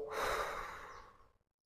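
A long, soft exhale releases a held breath during a daily nerve-and-muscle exercise routine. The breathy sigh swells quickly and then trails off into silence, close and quiet.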